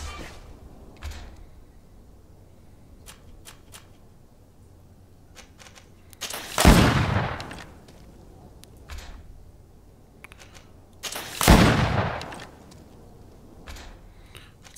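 Two loud gunshots ring out in the PC action RPG GreedFall, a pistol firing about five seconds apart, each a sharp burst with a short decaying tail over quiet background with faint clicks.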